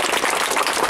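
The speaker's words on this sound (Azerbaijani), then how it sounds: "Gəlin anaları, bax, burada alqışlayaq" An audience applauds at a gathering for a martyr's memorial complex in Azerbaijan, a brief, steady burst of dense clapping with no pause.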